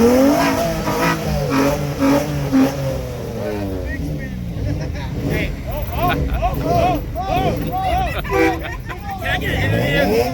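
A Nissan VQ-engined car free revs at a drag strip, its engine note rising and falling steadily for about ten seconds over a crowd's babble, with people talking nearby.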